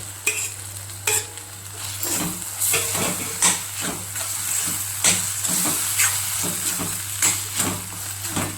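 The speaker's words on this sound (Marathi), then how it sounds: "आता याच्यामध्ये हे वांगं बारीक केलेलं भाजलेलं वांगं ते टाकूया." Roasted mashed brinjal is stirred into sizzling masala in a pan, with repeated scraping stir strokes coming in an irregular rhythm over a continuous frying sizzle, close and fairly loud, with no talking.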